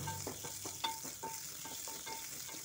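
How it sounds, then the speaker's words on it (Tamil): Onions sizzle and crackle steadily in a hot pan while being sautéed until browned for a cactus curry, with a continuous frying hiss broken by soft stirring scrapes. "கொஞ்சம் ப்ரௌனிஸ் ஆகிற வரைக்கும் நல்லா வதக்கிக்கிங்க."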